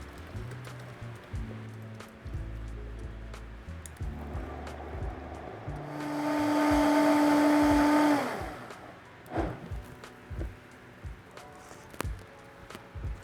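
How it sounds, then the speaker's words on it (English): A blender purees vanilla parsnip at high speed for a couple of seconds, loud and steady, then winds down, with quieter kitchen clatter before and after. "put it into our blender and get it incredibly smooth"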